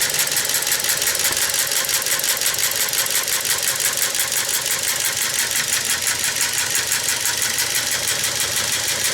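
A 1908 Matheson engine's make-and-break ignition rig runs on a variable-speed sewing machine motor at a steady rapid ticking clatter, loud and continuous with no pauses.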